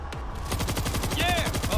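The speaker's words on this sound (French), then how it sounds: "Déchire, la mitrailleuse." A machine gun firing in the zombie shooter World War Z, a rapid, steady stream of loud close shots with a faint in-game electronic tone partway through.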